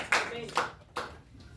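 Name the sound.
congregation clapping hands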